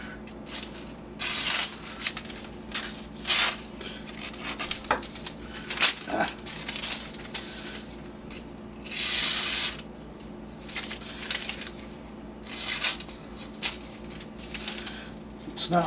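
A Lon Humphrey Muley knife in 52100 steel slices through paper in a series of close, crisp rustling strokes at uneven intervals, with some talking in the background.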